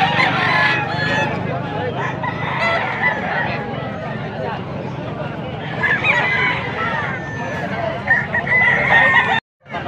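A young rooster crows repeatedly at a busy fowl market, its loud, near calls standing out over clucking, honking geese and people talking throughout.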